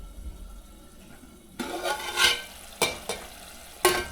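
Palak paneer gravy sizzles and bubbles in a pan, starting quiet then bursting into loud hissing fry with sharp spikes as it is stirred, no talk over it.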